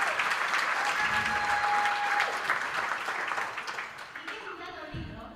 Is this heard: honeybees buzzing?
no